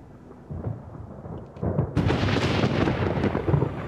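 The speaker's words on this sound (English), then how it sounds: "After 11 freezing nights out in the wilderness, a violent storm blows into the canyon." A violent thunderstorm in a canyon: thunder rumbles low and deep, then swells into a loud, sustained crashing roar, heavy and close, with no voices.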